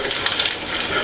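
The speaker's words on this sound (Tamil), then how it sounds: "கடலைப்பருப்பு உளுந்து பருப்பு செவந்து வரட்டுங்க." Chana dal and urad dal fry in hot oil for tamarind rice, giving a steady, close, bright sizzle with no pauses over a brief moment.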